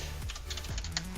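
Computer keyboard typing at a desk during an After Effects session, several quick, close key clicks in a loose rhythm with no talk.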